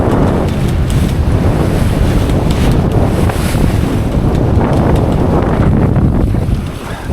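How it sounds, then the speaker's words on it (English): Strong wind roars across the microphone aboard the sailboat Spellbound, sailing in breezy conditions in Norfolk Bay, Tasmania. Loud, steady buffeting blends with water rushing past the hull, with no voices. "conditions have become a little bit more breezier, probably in the high 20s now"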